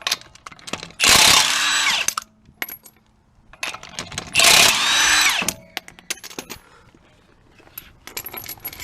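Power tool spinning off 21 mm lug nuts on a 2001 Toyota Avalon, two loud sustained high-pitched whirring bursts of about a second each, separated by clinks and rattles of metal parts being handled.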